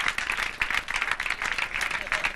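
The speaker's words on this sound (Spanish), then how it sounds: "Un aplauso para Antonio." An audience applauds at a live band performance, with dense, bright, rhythmic clapping sustained throughout and a few voices mixed in.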